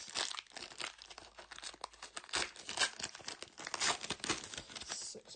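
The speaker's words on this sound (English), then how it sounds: "So I'll just rip open 6 packs first." Donruss trading card packs being ripped open, crinkly foil wrappers tearing and crumpling in quick close bursts that keep going steadily throughout.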